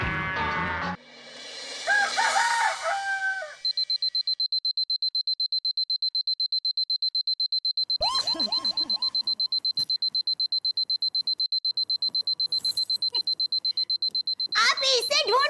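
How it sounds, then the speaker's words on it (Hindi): A high electronic alarm clock beeps in a rapid steady pulse for several seconds, with children's voices and a rooster-like crow before and after it, in a TV sitcom scene. "तुम अलार्म लगा देना 5 बजे की"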